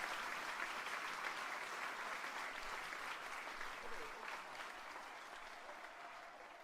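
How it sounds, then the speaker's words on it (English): Crowd applause at draft day in the Madden 25 football video game, a soft, continuous patter of many hands clapping that gradually fades toward the end. "It started with a slow clap. They weren't too sure, but once one started, they all started clapping."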